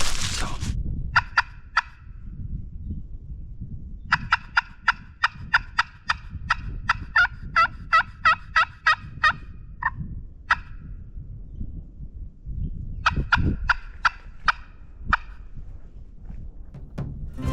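Wild turkeys gobble in Appalachian highland woods, with several loud rattling bursts in quick clusters, some nearer and some slightly fainter, set over steady low outdoor rumble.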